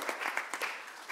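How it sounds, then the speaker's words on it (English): Applause from a group at a temple live stream, a steady crackle of many hands clapping at moderate volume with no voices over it. "Let's just give Alyssa and Leah a round of applause."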